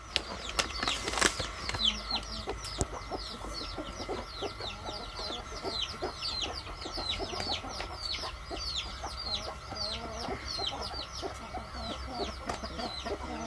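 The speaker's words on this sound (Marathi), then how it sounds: "ही बघा कोंबडी, आजच पिल्ले काढले." A hen with her newly hatched chicks, ten hatched from eleven eggs, clucks steadily while the chicks cheep in a dense, continuous chorus. A few wing flaps and soft rustles are mixed in, all close by.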